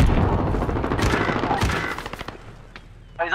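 In the shooter game Modern Warfare, an RPG or Javelin launcher fires amid heavy, loud bursts of gunfire and booms that thin out into scattered shots and a short final blast.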